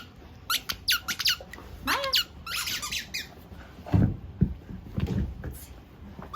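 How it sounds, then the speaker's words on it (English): A squeaky peppermint candy dog toy squeaks in bursts of sharp, high, rubbery squeals, several quick squeaks at first and then scattered ones, close up, amid handling rustle and low thumps. "It is a squeaky peppermint candy, and it's also scented."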